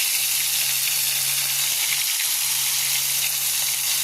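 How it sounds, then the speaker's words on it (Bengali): Spices dropped into hot oil in a wok (kadai) while cooking, a steady bright sizzle and hiss with a low hum in the background and no talking. "দেখো কড়াতে তেল বসিয়ে দিয়ে দিচ্ছি। এবার দেবো মশলাটা দিয়ে দিলাম।"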